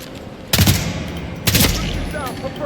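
Two loud, close bursts of gunfire about a second apart in the video game Hitman World of Assassination, each with a rattling echo that fades into the game's background ambience.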